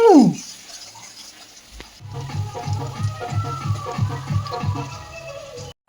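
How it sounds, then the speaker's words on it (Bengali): Potatoes and onions frying in a pan, scraped and turned with a spatula: a brief sizzle first, then a steady crackle with rhythmic, repeated scraping strokes close by, no voices. "আলু ভাজা হচ্ছে, এদিকে পেঁয়াজ ভাজা হচ্ছে, এদিকে বাকিটা হয়ে আছে, এদিকে কিছুটা পেঁয়াজ ভাজা হয়ে গেছে, এদিকে খুন্তি মারছি আস্তে আস্তে"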